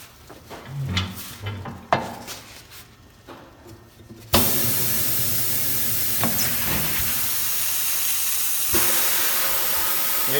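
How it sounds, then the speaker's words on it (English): A pneumatic tire machine works a tire bead off a rim during a tire change on a 2011 Charger, with a few clanks and thumps followed by a sudden, sustained loud hiss of air that runs to the end. "we have this nice tire machine to help us out"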